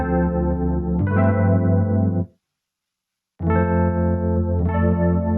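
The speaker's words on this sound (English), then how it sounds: "this is something like a lush Juno style chorus, but with a slightly deeper tone" Synth chords passed through a Baby Audio Super VHS plugin with its lush Juno-style chorus, given a slightly deeper tone, two sustained swells broken by a short silence, loud and close with no talking.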